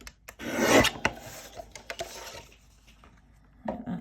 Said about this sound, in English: Let's trim that one.